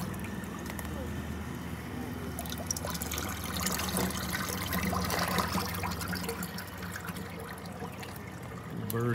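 Water gushing and splashing steadily from a pipe at an old oil well, a dense continuous rush with some background rumble throughout.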